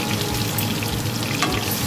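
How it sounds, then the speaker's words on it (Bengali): Potato pieces frying in hot oil in a pan, lightly salted and with turmeric, for a potol chingri dish, giving a steady, dense crackling sizzle with scattered pops, close and continuous throughout. "আলুগুলো একটু লাল করে ভেজে নেব"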